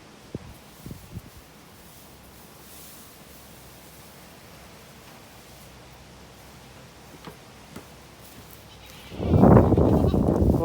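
Goats on a farm give a loud bleat near the end, after a long stretch of quiet outdoor noise with faint scattered sounds.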